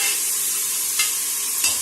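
Tomatoes sauté in a pan for chicken biryani, a dense close hiss of frying with two brief scraping stirs and no talking.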